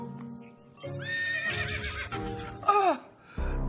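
A horse gives a loud, close whinny with a rising and falling neigh, followed by snorts and a second shorter neigh, with hoof clip-clop faintly mixed in and no talking.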